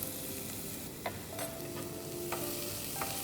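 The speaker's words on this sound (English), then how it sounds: "fry till the onions go translucent" Finely chopped onions and green chilies frying in a pan for Kolhapuri missal, a dense, close sizzle with a few sharp scraping stirs spaced across the moment.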